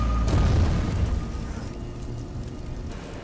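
Explosion effect from the Tamil action film Kaithi, a loud low boom that swells in the first half second and then settles into a long rumbling roar of fire and debris.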